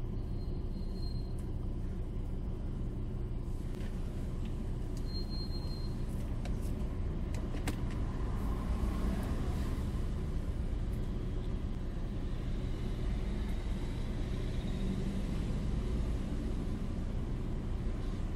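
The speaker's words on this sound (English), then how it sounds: "The car I'm driving" A small Smart car is driven along, heard from inside the cabin as a faint, steady low road rumble and engine hum with no talking.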